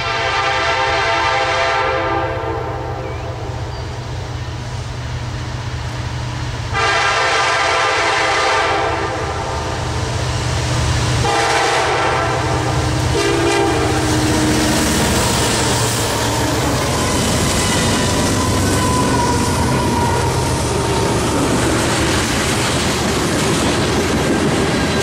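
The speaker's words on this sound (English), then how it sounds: "K-423 is a loaded ethanol train coming" A loaded CSX ethanol freight train led by ES44 locomotives rolls past loud and close, a steady heavy rumble with clattering wheels and wagon noise filling the whole stretch, and a horn-like tone early on.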